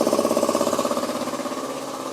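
A VEVOR silent air compressor starts up with an empty tank and runs with a steady, pulsing motor hum at a moderate level, its rapid rhythmic beat slowing slightly as it settles.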